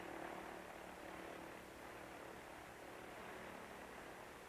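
A 1933 American Airways propeller airliner drones steadily through the night sky, a constant, even engine hum heard from inside the plane at a low level, with no voices.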